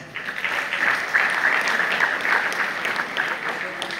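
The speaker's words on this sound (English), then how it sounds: "Give him a round of applause." An audience at a school speech claps steadily for a few seconds, a dense wash of applause at moderate volume with no voices over it.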